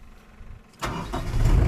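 A 460-volt well pump motor switches on after a quiet moment with a sudden jolt, then settles into a building, steady mechanical hum close by.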